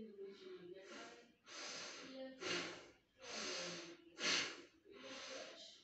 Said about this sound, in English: Pronal posture, just deep breathing and enjoy.